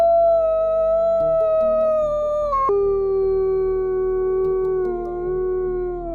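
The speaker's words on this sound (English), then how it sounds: "Wolf." A wolf gives a long, loud, close howl that glides smoothly in pitch, breaks and shifts partway through, then sustains and slowly fades, heard alone.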